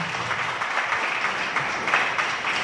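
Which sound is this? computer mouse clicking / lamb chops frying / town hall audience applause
town hall audience applause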